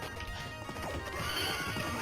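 A horse in the Knights of the Round video game gives a loud whinny, with clip-clop hoof sounds mixed in, heard alone and fairly close.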